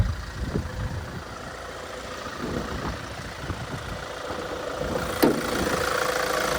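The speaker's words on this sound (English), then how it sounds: "That motor ticking over nicely." A 2016 Kia Sportage Platinum engine idles, heard from near the engine bay as a low, steady rumble with faint ticking and one brief sharp click.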